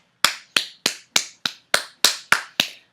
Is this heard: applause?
yes